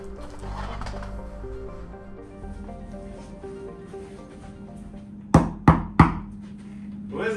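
Three sharp knocks on a door, close and spaced about a third of a second apart, cut through steady background music near the end.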